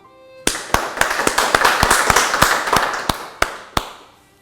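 An audience at a Korean Family Federation church gathering applauds with sharp, separate claps that ring out over a dense wash of hands, loud and steady for about four seconds before thinning out.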